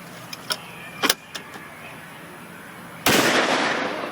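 A ship's cannon on the Columbia fires with one sudden loud blast that decays in a long rumbling wash, preceded by a few sharp clicks and knocks.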